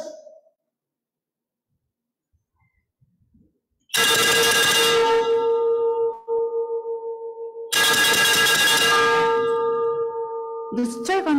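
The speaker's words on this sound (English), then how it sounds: "The second signal bell was rung." Signal bell rung at a ship launching ceremony for a 97-meter coast guard multi-role response vessel, two loud, ringing metallic strikes a few seconds apart, each with a long, slowly decaying tone, after near silence.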